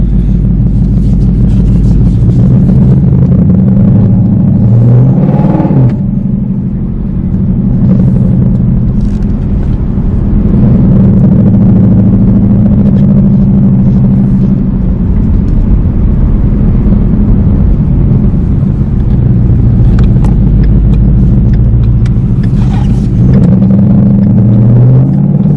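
A car engine rumbles loudly and steadily while driving, with brief dips as it shifts, heard from inside the vehicle and no talking.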